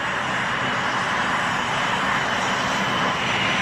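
A Fairchild Republic A-10 Thunderbolt II attack aircraft gives a steady, loud, broad engine roar with a whining edge, sustained without pause and with no voices.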